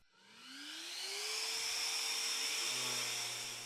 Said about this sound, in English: sand them together so I get them perfectly the same